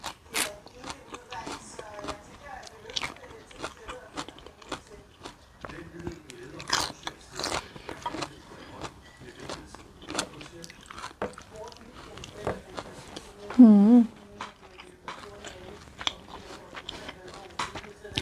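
Wild sea kale gritty with a little sand is bitten and chewed close up, giving a long run of crisp, irregular crunches and snaps, with a brief voice sound partway through.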